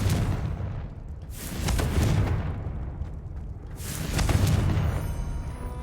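The Confringo blast spell going off in Hogwarts Legacy, heard as a couple of broad booming bursts with a rushing fiery tail, moderately loud against game ambience.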